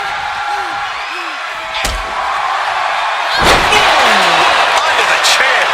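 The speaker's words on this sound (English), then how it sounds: "that was a terrible way to land on that chair" In a wrestling video game, a female wrestler crashes onto a steel chair with two sharp metallic slams over crowd noise, while a commentator talks throughout.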